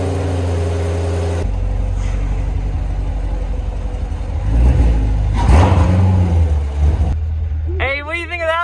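An LS1 V8 engine in a Mitsubishi Eclipse turns over and fires, then revs up and down with a rising whine, while people talk nearby and a voice rises at the end.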